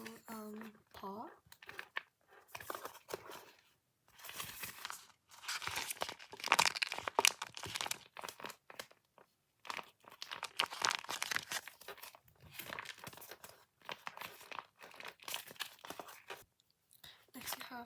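Crinkly plastic packaging from a squishy box unboxing rustles and tears in close, irregular bursts with quiet pauses, with soft talk mixed in.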